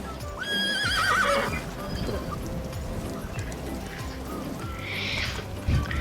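A horse in a Wild West video game whinnies loudly with a wavering neigh, then hooves clip-clop steadily beneath a voice talking, with another softer whinny later on.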